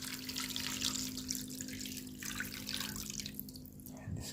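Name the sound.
water added to a cooking pan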